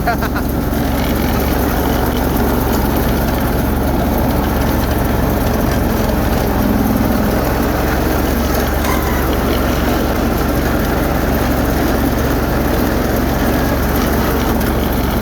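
A snow blower engine running steadily and loud at close range, a constant droning rumble with no pauses throughout.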